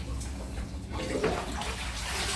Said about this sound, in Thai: แม่มาเปิดน้ำให้